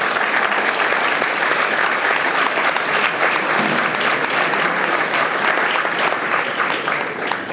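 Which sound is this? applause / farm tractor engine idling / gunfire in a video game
applause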